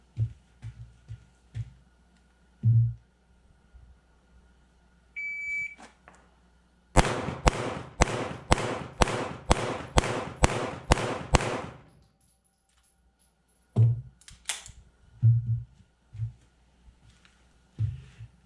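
Rapid string of pistol shots from a concealed draw during a 10-10-10 drill at a scored B8 target, about ten sharp evenly spaced cracks in quick succession, loud and close, with quieter clatter and handling noises before and after.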